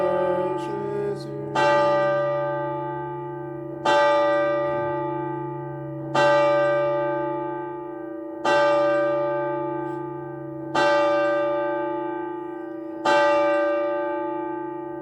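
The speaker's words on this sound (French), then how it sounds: "La cloche, les cloches de nos églises sont là bien pour appeler" A church bell tolls slowly and loudly around Mass time, six evenly spaced strikes about two seconds apart, each ringing out with a long, humming decay that carries into the next.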